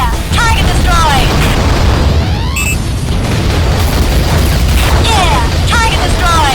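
A destroyed target exploding in the underwater video game AquaNox, loud booming blasts with rumbling low end and bursts of game effects layered over continuous engine drone.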